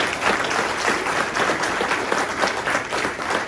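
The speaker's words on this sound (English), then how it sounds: "Let's give them a round of applause." A community meeting audience applauds the Community Policing Unit officers, a loud, continuous patter of many hands clapping throughout, nearby and unbroken by speech.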